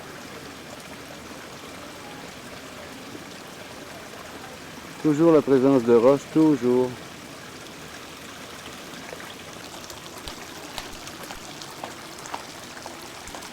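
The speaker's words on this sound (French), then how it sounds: "Petite cascade." A small waterfall fed by the outlet of a 10,000-gallon-per-hour filter splashes over rocks in the Ginkaku-ji Japanese garden in Kyoto. It makes a steady, soft trickling rush, with a voice speaking briefly over it.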